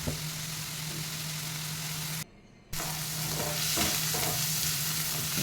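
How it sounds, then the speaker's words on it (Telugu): Liver fry sizzling steadily in a pan with a low hum underneath, a brief dropout midway, then stirring scrapes and louder crackle toward the end; no voices. "చాలా వరకు వేగినాయండి."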